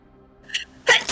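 A single loud, close sneeze bursts out after a brief quiet intake of breath, from a person sitting and chatting during a casual online stream.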